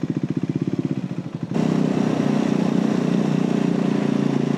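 A Triumph Scrambler 400X motorcycle ridden through London streets, its engine a steady close thrum that surges louder partway through as the bike accelerates, with no talk over it.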